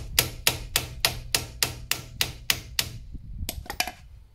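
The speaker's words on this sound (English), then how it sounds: "A few more taps on the bottom, maybe," Hammer taps strike the rusty underside of a 1999 Opel Astra convertible, 2.0, in a steady series of about ten sharp, evenly spaced metallic knocks, followed by a few quicker, lighter taps.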